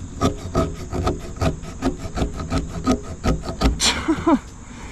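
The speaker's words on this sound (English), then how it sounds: "Let's try the butter knife multi-tool blade." A dull butter knife multi-tool blade is dragged across wood in about a dozen quick rhythmic scraping strokes, close and fairly loud, ending in a brief squeak.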